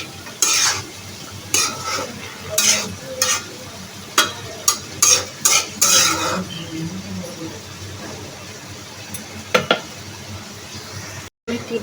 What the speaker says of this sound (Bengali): এখন বাঁধাকপির সঙ্গে একটু হলুদের গুঁড়ো এবং লবণটাকে মিশিয়ে দিব।